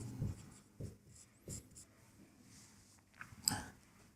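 Pen writing a geometry solution on paper, faint scratchy strokes in short irregular bursts with quiet pauses, close and soft, no talk.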